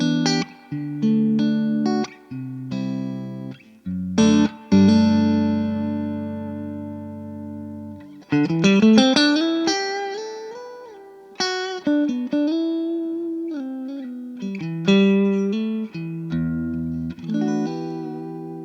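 Clean electric guitar tone through a 100-watt Dumble-style amplifier run through an aux box, played as sustained chords and single-note lines with ringing decay, clear and close, no voices.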